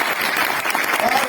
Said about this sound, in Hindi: मैं चाहूंगा एक बार जोरदार तालियां उनके लिए।